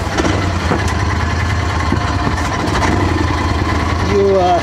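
Engine of a Max II 6x6 amphibious vehicle running steadily at idle, a loud continuous mid-low drone close by, with a brief higher tonal whine near the end.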